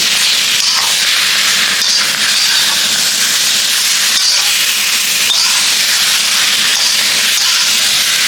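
Mutton sautés in spices in a pan, giving a loud, steady, close sizzling hiss that barely changes throughout.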